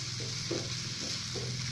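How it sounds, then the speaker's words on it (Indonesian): A utensil stirs a sizzling young papaya stir-fry in a pan, with soft scraping strokes repeating over a constant frying hiss, close up and without talk. "Kemudian kita aduk lagi"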